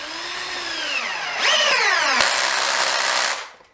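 A Dewalt DCD776 18V cordless drill spins up with a whining motor that rises in pitch, then surges louder into a harsh, steady high-speed whir before cutting off at the end.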